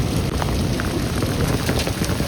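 Heavy rain pouring outdoors during a hailstorm, a dense, constant hiss and patter filling the whole stretch, loud and unbroken with no voices.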